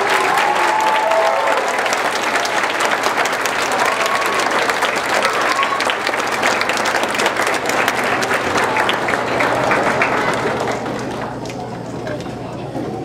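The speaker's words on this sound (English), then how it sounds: "let's give them one more big round of applause." Sustained audience applause at a children's school music program, a dense wash of many hands clapping steadily for about ten seconds before thinning and fading toward the end.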